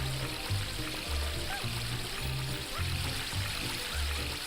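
Flowing water in the video game Astro Bot, a steady pouring wash under a rhythmic music bass line, moderate and continuous.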